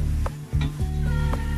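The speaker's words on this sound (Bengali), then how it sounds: "আমার চান্দা মাছ প্রায় ভাজা হয়ে গেছে" Small chanda fish fry and are stirred in a pan over medium heat, a low sizzle with a steady humming tone underneath and a few soft scraping stirs breaking through at intervals.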